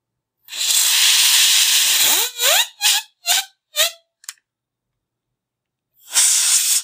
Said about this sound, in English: And then I'll just blow some dust out of this fan right here.